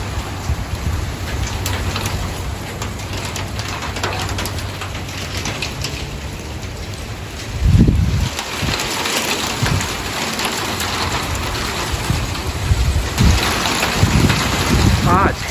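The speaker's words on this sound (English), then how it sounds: "Yeah, it's hailing." Pea- to dime-sized hail falls in a nighttime sleet storm with strong gusty winds, a loud, dense rattling patter under heavy wind buffeting on the microphone, with a louder gust surge midway.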